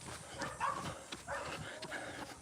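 Dogs behind open backyard fences along a trail give a few scattered barks, moderately distant and fairly faint, spaced irregularly over a steady outdoor background.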